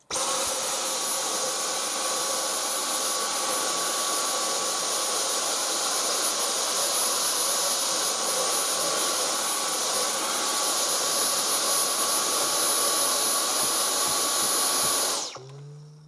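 A Dyson V10 Total Clean cordless vacuum runs on power mode 2 picking up spilled flour, a loud, steady high-pitched whine holding for about fifteen seconds before cutting off abruptly.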